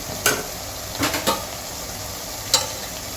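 Drumstick pieces sauté in a pan for a homemade fish curry, giving a faint steady sizzle broken by four sharp spatula scrapes and clinks, with no voices.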